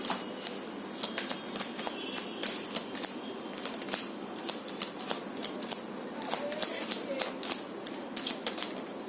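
Tarot cards are shuffled repeatedly, giving a close run of quick riffling flicks and snaps over a soft hiss, with no talk.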